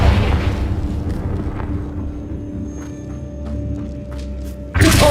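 A Confringo blasting spell goes off in the video game Hogwarts Legacy, a loud broadband boom that rumbles and decays over several seconds, followed by a sharp fresh burst near the end.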